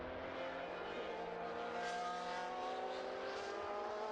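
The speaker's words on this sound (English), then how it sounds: "pulling up all these different noises of cars" Historic race cars at the Estoril circuit, engines droning steadily with layered harmonic tones and a slight rise and fall as machines pass at moderate distance, continuous throughout with no talk.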